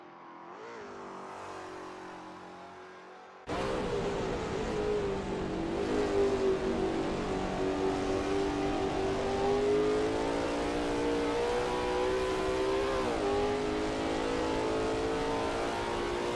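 Lola T70 MkII Spyder race car at Österreichring in a racing game: after a quieter opening, the engine snaps to a loud, steady high-revving drone with slight pitch shifts as it holds speed, then dips and climbs again.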